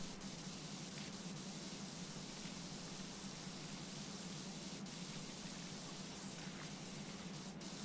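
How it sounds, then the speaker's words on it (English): Soap sprayed during concrete work, a steady, quiet, continuous hiss of spray that holds unchanged throughout, with no voices. "I sprayed with the soap."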